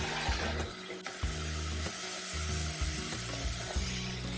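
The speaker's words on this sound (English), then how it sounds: "Add the ginger, garlic, and shallots mix. Saute these until they're soft and fragrant." Ginger, garlic and shallots sautéing in oil in a pot give a steady, close sizzle, with stirring scrapes and faint low clatter running underneath throughout.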